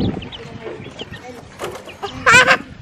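Backyard chickens clucking near a homemade coop, with short close clucks and a louder burst of squawking near the end amid background voices.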